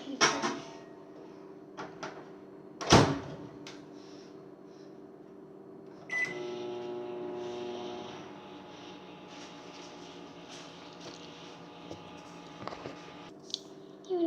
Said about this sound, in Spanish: ya voy a meter esto en microondas hasta que se derrita